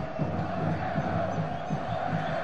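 Stadium football crowd at a Paulistão 2016 match between Red Bull Brasil and São Paulo, fans chanting a player's name in a steady, rhythmic roar, broad and distant, with no talk over it.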